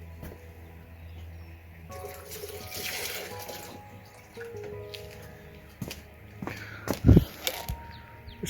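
Water is poured into a container of coriander seeds to soak them, a soft close trickle and splash that grows briefly louder and more sloshy near the end, with no voices.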